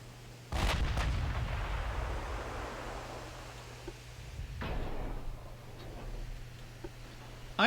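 A video game battleship's naval guns fire with a heavy boom, a second muffled blast following a few seconds later, over a rumbling background hum.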